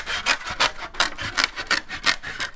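Close, steady rhythmic rasping and scraping from a cutting tool gouging a relief printmaking block, repeated strokes about every third of a second, loud and alone with no talk.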